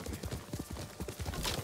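A horse gallops up in the video game Ghost of Tsushima, its hooves beating out a quick, steady clip-clop rhythm at moderate distance against a soft outdoor ambience.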